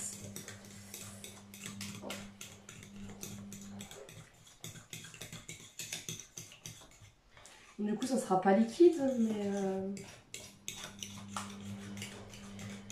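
Fork clinking and scraping against a bowl while mixing leek quiche filling, coming in bursts of quick metallic taps, with a person talking in French between and over the stirring.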